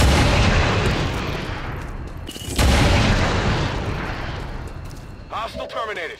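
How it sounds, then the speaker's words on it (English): Two heavy sniper rifle shots in XCOM 2, each a loud booming blast that decays slowly, roughly two and a half seconds apart, with a short crackle of game effects at the end. "we take 2 sniper rifle shots to clear out the remaining Lost that Radonis can currently see"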